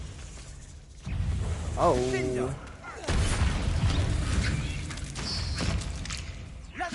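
A fiery Confringo blast spell bursts with a low boom and crackling rumble in a wizarding game, followed by continued fiery rumbling amid combat noise; a voice briefly exclaims nearby.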